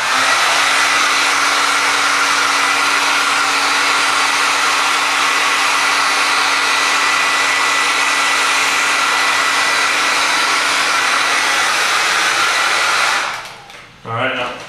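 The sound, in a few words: hair dryer blowing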